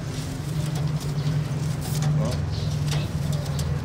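Low, repeated cooing of pigeons close by, steady hums over a busy background with faint scuffling.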